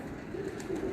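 Pigeons coo softly on a rooftop, a low murmuring call over steady background noise, brief and close.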